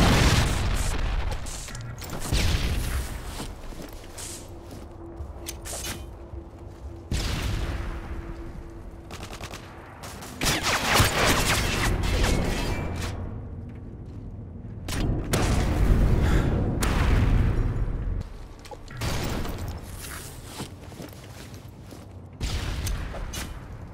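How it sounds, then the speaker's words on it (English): Predator missile strikes in a Call of Duty game: a series of heavy booming blasts and bursts of gunfire come in waves over about 24 seconds, loud and punchy with quieter gaps between. "Friendly Predator missile inbound."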